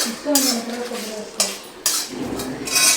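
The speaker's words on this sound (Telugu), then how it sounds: "సో ఇలా దూరగా వేయించుకుంటూ ఉండాలి, కలుపుతూ ఉండాలి మాడిపోకుండా" A metal spoon clinks and scrapes against a pan in several bursts while a spice mix with dry coconut powder is stirred and fried, the scrapes close and sharp with a faint sizzle between them.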